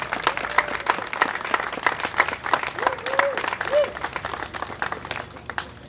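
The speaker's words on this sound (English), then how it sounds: "can we please give a round of applause for state contractors on a job well done" A crowd applauds at an outdoor downtown ribbon cutting ceremony, with dense steady clapping throughout the clip and scattered voices mixed in.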